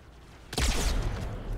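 A gunshot in Halo 2 Anniversary bursts out suddenly after a quiet moment, a single loud close blast with a rumbling echo trailing off.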